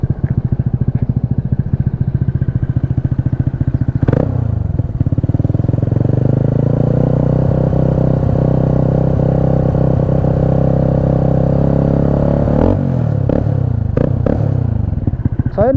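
A PGO Tigra 150 scooter fitted with an Akrapovic exhaust runs steadily up close, its engine note loud and sustained with a rise in revs around the middle and some clattering near the end.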